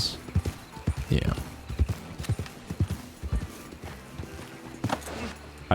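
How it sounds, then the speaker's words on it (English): Horse hooves clip-clop in a steady walking rhythm in the Red Dead Redemption 2 video game, fairly close and moderately loud, with a brief whinny and people talking over it. "Is that a horse?"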